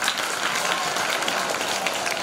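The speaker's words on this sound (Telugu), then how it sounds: "చప్పట్లు కొట్టండి ఒకసారి" An audience at a motivational talk on organ donation claps on request, a dense, steady patter of applause filling the short moment.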